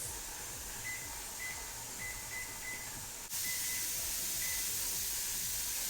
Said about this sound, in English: I have a good strong stream of steam coming out of the pot